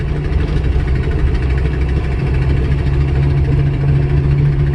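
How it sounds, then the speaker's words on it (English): Car with a manual transmission and a steady engine, held at a constant low drone with a strong hum throughout; the engine note stays even rather than climbing. "so then you let it rev up a little bit"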